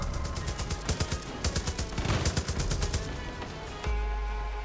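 Sustained rapid gunfire while shooting an enemy in Far Cry 5, a dense string of close, loud automatic shots lasting several seconds before cutting off into steady ambient noise.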